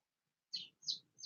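A pet bird gives three quick, high chirps in a row, each short and fairly faint, with silence before the first and brief gaps between them.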